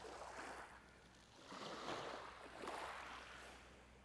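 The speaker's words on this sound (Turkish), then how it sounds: "Minik minik sahile vuruyor şu an dalgalar." Small, gentle sea waves lap onto a sandy resort beach with glassy, calm water, rising and falling in soft washes about every second or so, fairly faint with no voices.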